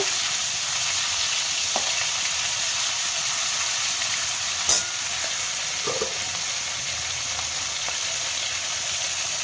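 Steady frying sizzle of eel fish in oil, a continuous hiss with a few faint clicks and pops, no voices.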